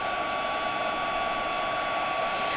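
Heat tool blowing hot air to melt gold embossing powder on a stamped card: a steady, close, whirring fan drone with a constant high whine, uninterrupted throughout.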